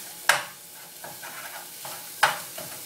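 Chili being chopped up and mixed together in a pot, with two sharp scraping strikes about two seconds apart and soft stirring shuffles in between, close and fairly quiet with no talk.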